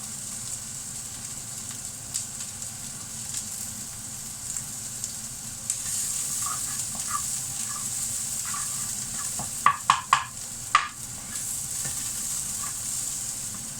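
Spring onion is stir-fried in a pan with ginger and chicken, giving a steady frying hiss with light stirring, then a few sharp clanks of the utensil against the pan near the end.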